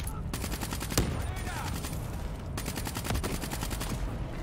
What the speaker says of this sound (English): Come on, shoot them, shoot them, you can do it.